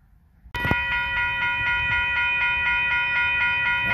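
Union Pacific 2002 heritage locomotive heading westbound on track 2 toward Topeka near Lawrence and Perry, Kansas, sounds a loud, sustained multi-tone horn that cuts in abruptly after a quiet moment, over a low rumbling background.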